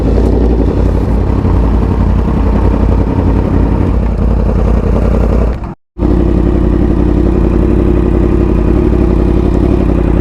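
Motorcycle fitted with a new aftermarket exhaust, riding at a steady throttle with a loud, continuous engine drone and wind rumble, cut by a brief total dropout near the middle before resuming.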